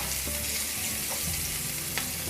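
Onions frying in a pan for a matar makhana curry, giving a steady, dense sizzle with a few soft stirring clicks, close and constant.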